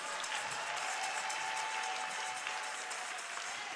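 A church congregation breaks into sustained, dense applause, steady and evenly loud throughout with no voices rising above it.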